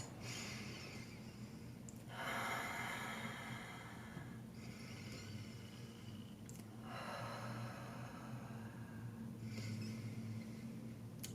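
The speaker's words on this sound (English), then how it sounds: "as we release and let go, let's take 3 deep breaths" Slow, deep breaths exhaled all the way out during a guided relaxation, three long airy breaths spaced a few seconds apart, faint and close, with no talking.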